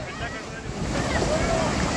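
Surf washes in on Tarkarli Beach in Konkan with a broad rushing roar, wind buffeting the microphone, a short continuous swell of sea noise.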